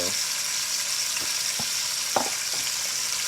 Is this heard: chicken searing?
yes